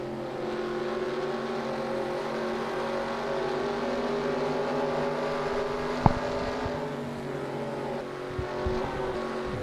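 Stock cars racing in NASCAR Racing 2003, a continuous layered engine roar from several cars at once with steady high revs, and one sharp thud partway through, heard without talk.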